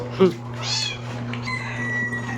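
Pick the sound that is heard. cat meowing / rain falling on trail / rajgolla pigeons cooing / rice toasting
cat meowing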